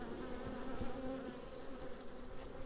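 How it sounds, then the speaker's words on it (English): Honey bees fly around an open hive while a beekeeper splits hives, their buzzing forming a steady, continuous drone close by with no voices over it. "Some of them's flying bees"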